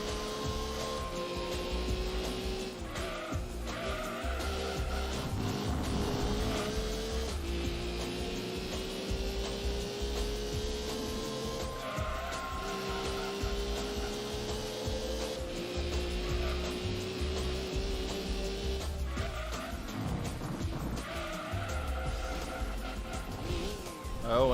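Race car engine in Gran Turismo 2, revving and shifting in continuous rising and falling whines with tire skids, loud and sustained throughout.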